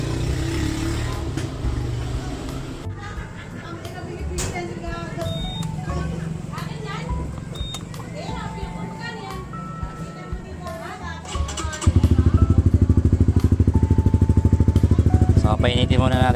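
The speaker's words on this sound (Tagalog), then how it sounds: "So painitin muna natin si Winnerex" A Honda Winner X motorcycle engine idles while warming up, a steady rumbling drone near the mic under chatter and background noise, turning into a louder, even buzzing hum in the last few seconds.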